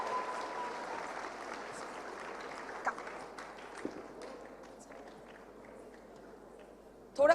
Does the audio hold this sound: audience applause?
yes